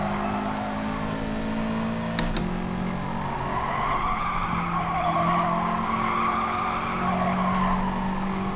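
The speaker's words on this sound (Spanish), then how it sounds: "Vaya drift que me acabo de hacer." Car tires skid and squeal through a drift in Gran Turismo Sport on PS5, with a steady engine drone and a long, sustained screech that holds at a constant loudness, with no voices.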